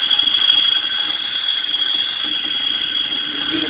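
A file pressed against the spinning shaft of a new 240-volt AC condenser motor, run on 120 volts without a run capacitor, makes a loud, steady, high grinding squeal that barely wavers.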